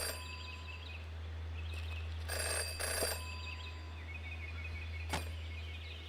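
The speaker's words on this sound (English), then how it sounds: "Jenny had learned never to ignore a ringing phone." A telephone rings in the detective adventure game Jenny LeClue, a couple of short bursts of bright ringing over a low steady hum, with a faint single chime later.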